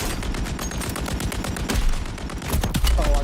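Rapid gunfire in a shooter video game, dense bursts of sharp shots with louder cracks near the middle and end, filling the whole stretch without talk.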